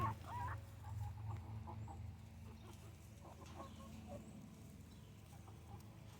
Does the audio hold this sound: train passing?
no